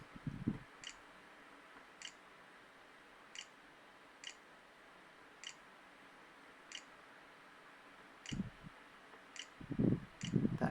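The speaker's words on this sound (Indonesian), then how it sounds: "Kita masukkan password menggunakan keyboard internal." Keys on the built-in keyboard of an Asus X540B laptop are pressed as a password is typed, giving single faint clicks at regular intervals in a quiet room, with a few louder handling knocks near the end.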